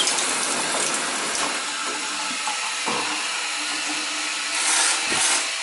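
Shower water runs in a house that has just had its winterized plumbing turned back on, a continuous close hiss of spray with a few brief knocks and a surge near the end.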